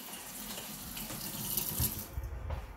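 Several water taps running full at once in an upstairs home during a water pressure test, a loud continuous rushing hiss with slight surges toward the end.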